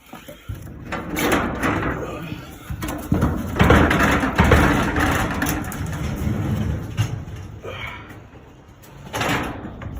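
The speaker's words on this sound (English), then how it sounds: "Let me see if I can get this garage door open." A garage door opening in a home garage, rattling and rumbling in uneven bursts with scraping and clanks over several seconds, loud and close.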